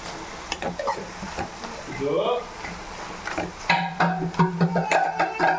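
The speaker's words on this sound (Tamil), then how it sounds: "அதையும் போட்டு வதக்கிக்கலாம்" Onions and prawns stir-fried in a pan for a prawn thokku, with sizzling, scraping spatula strokes and clinks of metal against the pan under a voice speaking intermittently.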